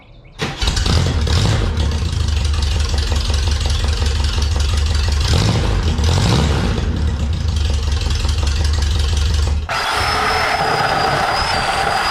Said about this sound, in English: Let's fire it up and see what it sounds like with just the heater boxes.